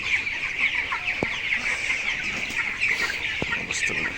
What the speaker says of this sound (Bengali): এই দেখেন 22 দিনের মুরগি